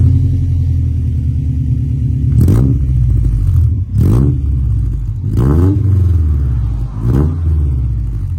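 A Honda Civic EJ9 with an exhaust baffle fitted idles with a deep rumble, then revs sharply four times, each burst rising and falling back to a throbbing idle, close and loud with no talking.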